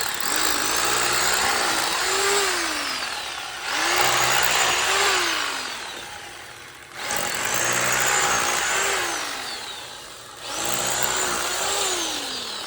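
Power drill boring holes into a concrete slab during DIY concrete lifting and leveling work, running in loud sustained bursts of about three seconds each, four bursts with short dips between, close up and with no talk.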